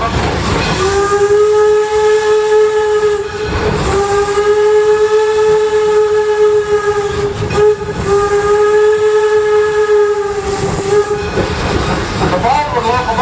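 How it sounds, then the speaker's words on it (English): A Baldwin steam locomotive sounds a loud, sustained whistle in several long blasts separated by short gaps, with steam hissing continuously underneath, heard close and alone. "The Baldwin Locomotive Company built more steam locomotives than any other company in the world's history"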